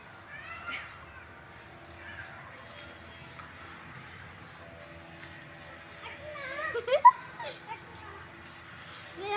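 A cat meows a few times, faint at first and then louder near the end, over quiet background noise and soft voices.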